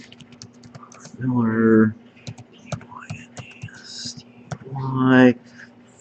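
Keys on a computer keyboard are tapped in quick irregular clicks, close and crisp, while someone talks over the typing.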